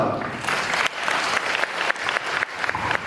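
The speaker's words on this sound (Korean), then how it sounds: "박수 드립니다." At an owners' briefing for a Yangjae Woosung apartment reconstruction, the audience applauds: a loud, dense burst of many hands clapping together, holding steady for a few seconds with brief dips.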